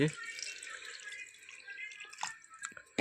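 Water poured from a vessel in a home kitchen, a splashing, trickling stream with drips near the end, close and moderately loud.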